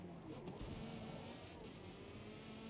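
A race car engine in the Gran Turismo video game drones steadily at moderate volume, a sustained low rumble with no clear revving peaks.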